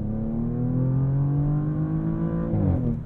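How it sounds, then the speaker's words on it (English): A 2023 Audi S7 Sport S engine held in manual mode climbs steadily in pitch toward redline, then drops abruptly as the gearbox upshifts, loud and continuous with no talking. "Let's see if it'll let us go all the way out to redline."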